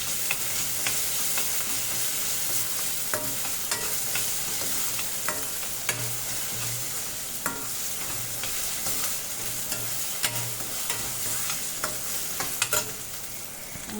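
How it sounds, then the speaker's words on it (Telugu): Ginger garlic paste with turmeric frying in a pan, a continuous close sizzle with frequent clicks and scrapes of a spoon stirring, no talking. "ఇందులోకి మనం ఇప్పుడు రెడీ చేసుకున్న పేస్ట్ వేసి కలుపుతాను"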